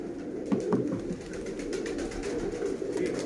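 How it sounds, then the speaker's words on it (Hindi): Pigeons cooing softly in a loft, low throaty coos repeating over a steady rustling background, with no talk. "अभी तो पहला कबूतर दिखाया आपको"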